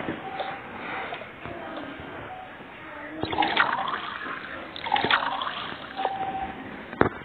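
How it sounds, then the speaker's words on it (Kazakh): Tea poured in a cartoon game, liquid splashing and sloshing in bursts with a few sharp clicks over quiet background. "Бірақ ең алдымен бізге шай құйып кет."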